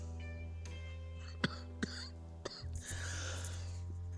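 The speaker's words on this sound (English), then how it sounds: "I guess I'm still coughing a little when I talk a lot" A man gives a few sharp, separate coughs, close and fairly quiet, over a steady low electrical hum, with some faint rustling near the end.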